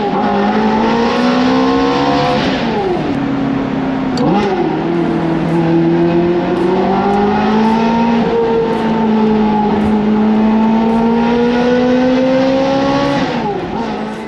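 A Liberty Walk widebody Ferrari F430 with a gated shifter drives in first gear, its engine droning loud and close with rising and falling revs and a couple of quick throttle blips.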